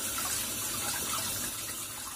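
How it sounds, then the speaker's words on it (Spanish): Tap water runs steadily into a sink as quinoa is rinsed for a salad, a continuous close hiss with no talk over it. "Lo primero que voy a hacer es lavar muy bien la quinoa durante varios segundos antes de ponerla a cocer."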